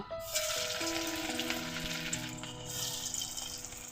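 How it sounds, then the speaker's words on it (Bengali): Soybean chunks go into hot oil and fry with a steady, close bubbling sizzle, broken by clinking kitchen sounds. "তেলটা ভালোভাবে গরম হয়ে গেছে এরপর তেলের উপরে একটা একটা করে ছেড়ে দেব"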